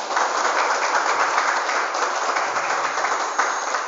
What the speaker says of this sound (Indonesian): berikan tepuk tangan untuk Stikes Banten hari ini